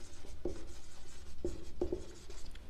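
A pen writes on paper while an equation is written out, soft scratchy strokes with a few sharper taps and clicks, close and quiet, with no talking.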